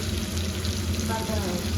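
Oil sizzles and crackles steadily as shilghoriya fish fries in a pan, a close, continuous hiss with faint stirring.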